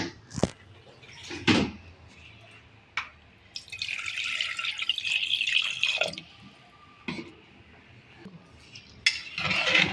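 Water poured from a vessel into a pot of mutton curry in a home kitchen, a sustained splashing rush in two bursts amid clinks and knocks of cookware.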